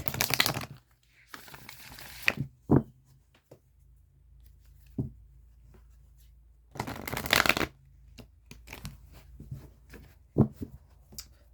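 Tarot cards being shuffled close up in several separate bursts of riffling and flicking, with quiet gaps and soft handling noises between them.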